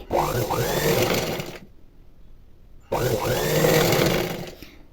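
A domestic sewing machine fitted with a normal presser foot stitches thin thread piping onto a blouse, running in two steady whirring bursts separated by a quiet pause, close and alone.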